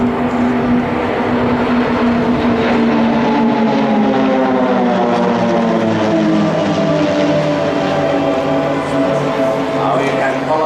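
Propeller engines of Swiss Air Force Pilatus PC-7 aircraft flying in formation at an airshow drone steadily and loudly throughout, with slowly shifting harmonic pitch as the formation passes.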